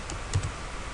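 Typing a command in Notepad on a computer keyboard, with a short burst of a few soft, close key clicks over a quiet room hum.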